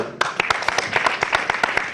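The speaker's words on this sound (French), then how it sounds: "applaudissements pour lui" Audience applause at a ceremony, a fast run of sharp, close hand claps that carries on steadily for the whole stretch without breaking off.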